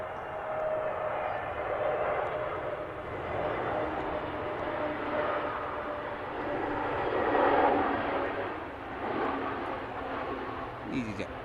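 An EasyJet airliner at Manchester Airport roars steadily at a distance, its engine noise swelling and fading over several seconds as it passes.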